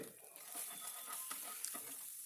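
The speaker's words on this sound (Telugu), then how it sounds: "అల్లం వెల్లుల్లి పేస్ట్ పచ్చివాసన పోయి కొద్దిగా వేగేదాకా ఒక నిమిషంలో వేగుతుంది" Ginger garlic paste frying in a pan gives a faint, steady sizzle with soft stirring scrapes, quiet and continuous over a short stretch.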